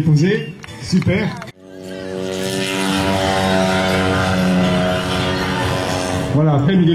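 A radio-controlled balsa model airplane's small engine revs up into a loud, steady buzzing drone as it takes off, with voices talking before and after the run.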